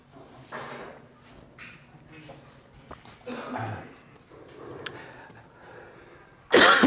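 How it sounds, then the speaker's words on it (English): A man has a coughing fit at a blacksmithing conference demonstration, with rough coughs and throat clearing in scattered bursts, some faint and some louder, ending in a sharp loud burst. "This might be a coughing fit for a while."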